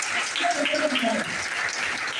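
Sustained audience applause fills the hall at a business-plan seminar in Dombivali, Mumbai, a dense, steady clatter of many hands with a voice mixed in beneath it.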